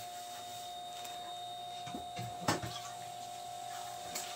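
A large-format printer runs in a tailoring shop, giving a steady mechanical hum with a constant whine, broken by a few soft clicks and clunks of the mechanism.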